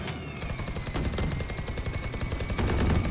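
Rapid automatic gunfire in a first-person shooter game, a continuous stream of close, loud shots over about three seconds with no talking.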